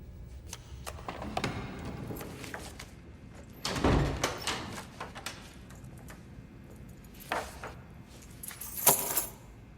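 Keys jangle in a few scattered bursts of metallic rattling, with one louder clash near the middle and another toward the end, separated by quieter handling noise and no voices.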